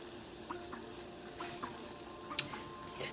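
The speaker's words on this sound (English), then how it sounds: "So now you just want to go ahead and just start stirring." Thickening, darkening caramel for gold candy apples is stirred in a pot, with soft bubbling and a spoon scraping in irregular strokes, plus a couple of sharp clinks near the end.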